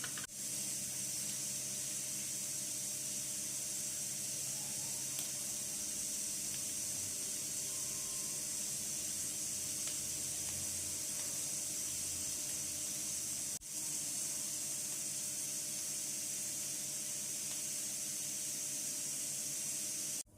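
Idiyappam steaming on an oiled idli plate, a constant soft hiss of steam running throughout, even and unbroken, with a faint knock midway.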